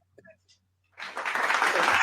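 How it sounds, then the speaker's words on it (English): A short burst of clapping starts suddenly halfway through, dense and close, after a moment of faint voice sounds, and keeps going to the end. "I was trying to do the applause, but I was clapping."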